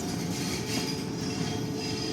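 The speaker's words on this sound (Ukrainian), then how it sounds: "локомотив їде, він перечіпляється" A locomotive moving and shunting at a railway station at a resort, a steady rumble of wheels on rails with faint metallic squeal, continuous and fairly close.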